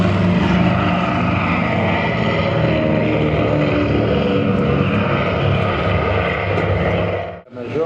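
A military fighter aircraft roars past at an air show, a loud sustained propeller-engine drone that stays near and heavy for several seconds before cutting off abruptly, with someone speaking faintly underneath.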